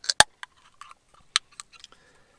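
An energy drink can is cracked open nearby, a few sharp clicks and a crisp pop followed by small faint ticks and a brief fizz in a quiet room.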